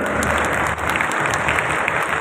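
Audience applause at the Murugan devotional conference held in Palani, a dense, steady wash of clapping from a large crowd that fills the whole stretch without a break.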